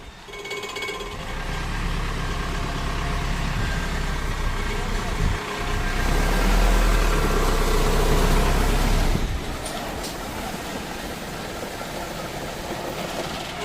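A truck's engine runs steadily while reversing with a load of soil, a loud low rumble that swells for a few seconds in the middle before easing back to a steady drone.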